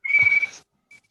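A person whistles one steady, high, clean tone for about half a second, close to the microphone, followed by a faint brief second note.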